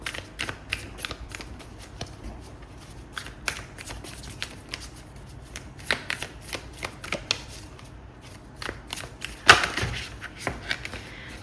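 Oracle cards are shuffled by hand in a soft, continuous riffling patter with light irregular flicks and taps, close and quiet, with no voices over them.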